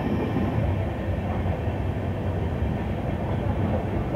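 An express train on an Indian line between Jeypore, Koraput and Rayagada rumbles steadily along the rails, a continuous loud close-up roar with no voices.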